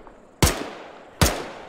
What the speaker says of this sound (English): They're shooting our friend!